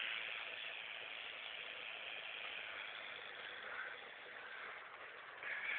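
Rattlesnake rattling its tail, a continuous dry buzzing hiss held steadily for several seconds at close range, with no voices over it.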